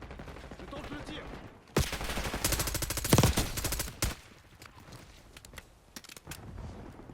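Gunfire in Black Ops 6 during a Hardpoint match on the Subsonic map, a loud sharp shot followed by a sustained rapid burst of automatic fire lasting a couple of seconds, then scattered quieter shots and game sounds.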